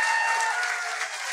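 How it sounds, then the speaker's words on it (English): Live podcast audience at the State Theatre in New Jersey applauding, a dense, steady wash of many hands clapping at close range that continues without a break and without speech. "Give yourselves another big round of applause"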